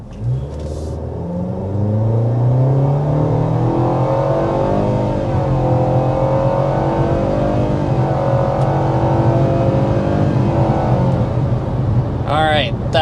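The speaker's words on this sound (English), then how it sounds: "we want to go ahead and start with a hard acceleration" A 2025 Nissan Kicks crossover accelerates hard to 60 mph, its engine drone climbing steadily in pitch through the run and heard from inside the cabin, with tire and road rumble underneath and a brief click near the end.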